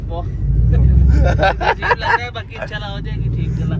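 A Mercedes C63 engine running with no downpipe fitted, its loud exhaust a steady low rumble throughout, swelling as it is revved, while several people talk close by over it.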